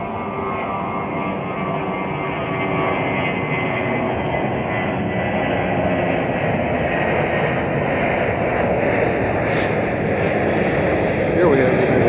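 Airplanes at Chicago O'Hare airport produce a steady, loud broadband engine roar that holds throughout, with a brief hiss near the end and talk faintly under it.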